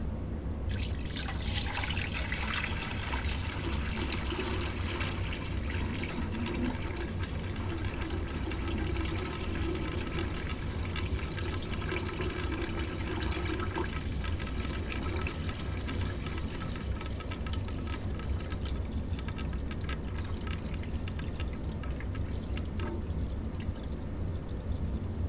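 Water mixed with vinegar streams steadily into a hot-and-cold water cooler being cleaned, a continuous close pour and trickle that runs without a break for the whole stretch.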